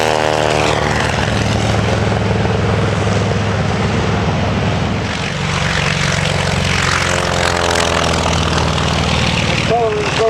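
A WWII propeller aircraft drones loudly at a Virginia Beach airshow, its engine a steady, rumbling roar that swells and fades slightly as it passes, with an announcer's voice talking over the noise.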